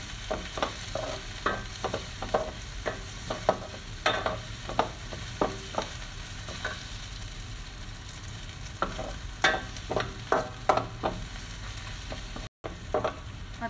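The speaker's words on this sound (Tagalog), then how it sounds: "Ngayon, luto ng ating sibuyas, light brown na. Ilalagay na natin ang ating bawang." Onion and garlic frying and being stirred in a pan, with repeated scraping and stirring strokes over a steady low sizzle, close and moderately loud with no talk.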